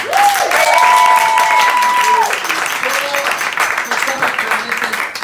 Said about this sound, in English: Should we give them another clap?